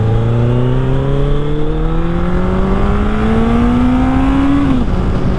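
A Honda CB1100 motorcycle engine accelerates hard, its rising whine climbing steadily through a long pull before easing off near the end, loud and close with no talk.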